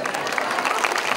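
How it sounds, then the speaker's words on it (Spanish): A studio audience at a telethon, TELECANCER 2015, claps in a dense, steady wash of applause with crowd noise, fairly loud and close throughout. "Eso es, aplaudan nomás, nos gusta que nos aplaudan."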